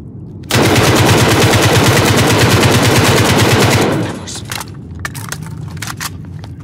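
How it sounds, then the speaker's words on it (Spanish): Sustained machine gun fire in Call of Duty Modern Warfare, a loud, rapid rhythmic burst of evenly spaced shots lasting several seconds before cutting off, followed by scattered quieter clicks and impacts. "Disparando."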